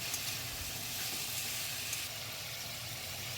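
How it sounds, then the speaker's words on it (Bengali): Diced potatoes fry in oil in a pan for a Bengali cauliflower curry, a soft, even sizzle that holds steady throughout at a low level. "সেই আলুগুলো দিয়ে দেব। দিয়ে আমি ভালো করে ভেজে নেব।"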